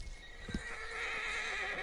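A horse in the Red Dead Redemption 2 game gives a close, loud neigh with clopping hooves, set against a steady ambient game background.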